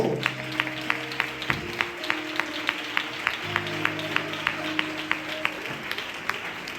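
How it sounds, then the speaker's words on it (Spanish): Church congregation clapping in a steady, rhythmic beat over sustained music tones, the claps evenly spaced and fairly loud throughout. "Fuerte el aplauso."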